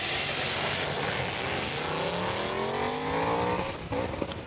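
Ford Mustangs, including a red Mustang with a 5-speed, roar off the line together at a drag strip, loud sustained engine noise with rising pitch as they accelerate away.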